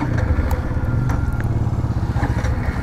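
A 125cc motorcycle engine that keeps stalling, running in a steady near-by putter with a rough, uneven idle and slight mechanical clatter throughout.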